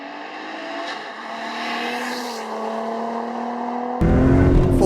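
A turbocharged car accelerates hard on a 60 to 130 mph roll, heard from inside as a steadily climbing engine and turbo whine under road roar, ending with a sudden louder burst of noise.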